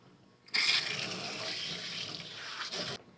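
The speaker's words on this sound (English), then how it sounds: "We're going to rinse this out." Running water from a tap rinses conditioner out of medium-length curly hair, starting abruptly and flowing in a steady, close rush for about two and a half seconds before cutting off, with no talk.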